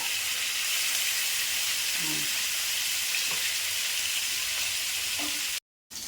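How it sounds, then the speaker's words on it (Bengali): Koi fish marinated in turmeric and salt sizzle steadily in hot oil for Bengali koi curry, a loud continuous broadband hiss with a few faint stirring clinks, briefly cutting out near the end. "মাছগুলো ভাজা হয়ে গেছে, এখন আমি উঠিয়ে নিচ্ছি।"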